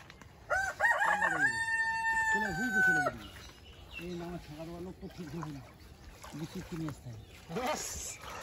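A rooster crows loudly nearby, followed by hens clucking in short bursts, with a person talking faintly at times.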